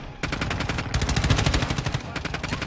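Rapid automatic gunfire in the video game Modern Warfare 2, a loud, close burst of evenly spaced shots rattling off in quick succession for a couple of seconds.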